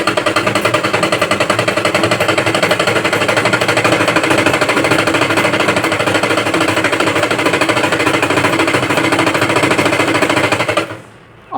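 Household sewing machine winding thread onto its bobbin, a steady fast mechanical rattle running continuously for about eleven seconds and stopping abruptly at the end, with no talking.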